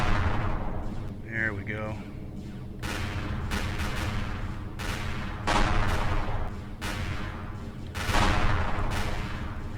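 Plasma cannons on a spaceship in the space game Empyrion Galactic Survival fire in repeated heavy booming bursts, roughly every couple of seconds, over a low engine rumble, with someone talking briefly.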